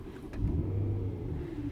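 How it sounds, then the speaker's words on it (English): A BMW M3 with a DCT gearbox fires up, its engine catching and settling into a steady, close low rumble with a brief rise in revs early on. "So we start engine."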